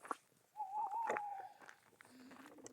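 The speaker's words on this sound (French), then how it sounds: "on profite du bruit du hibou" An owl hoots once at night outdoors, a steady faint tone carrying from a distance against quiet background, with a few soft rustles around it.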